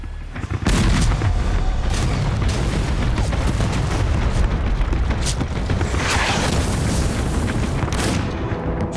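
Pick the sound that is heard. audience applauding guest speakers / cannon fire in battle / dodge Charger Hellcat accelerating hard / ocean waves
cannon fire in battle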